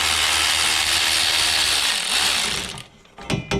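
Ratchet wrench working a nut on a Buick 3800 V6 alternator, a dense broadband mechanical grinding and clicking that runs steadily for over two seconds, then breaks into a few short sharp bursts after a pause.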